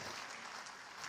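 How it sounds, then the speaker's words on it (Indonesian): A church congregation applauding during a sermon, a brief, quiet wash of many hands clapping at once, even and steady with no voice on top. "Yang setuju berikan tepuk tangan."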